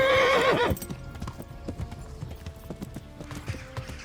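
A horse gallops in the medieval video game Kingdom Come: Deliverance, with rapid rhythmic hoof clip-clops and a whinny, close and fairly loud, following a brief burst of noise at the start.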